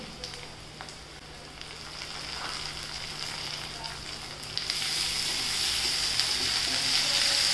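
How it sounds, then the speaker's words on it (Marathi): Onions and tomato fry in a pan with a soft, steady sizzle and occasional stirring, quiet and close, growing brighter and louder toward the end. "छोटे 2 मध्यम आकाराचे कांदे घेतलेत मी। ते जरा परतून घ्यायचे।"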